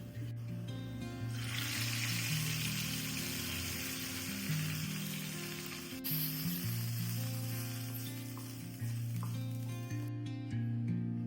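Onions and bitter gourd fry in a pan while making bitter gourd theyal. A soft, steady sizzle crackles continuously, fairly quiet and close, with a low hum beneath and no talk.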